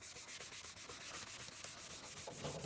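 Soft sanding pads rubbing over a car headlight lens, a steady close scratchy hiss with quick repeated back-and-forth strokes and no talking.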